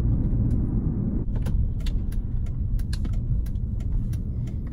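Mercedes CL500 V8 heard from inside while driving, a low steady engine rumble with road noise, plus scattered small clicks and taps over it and no talking.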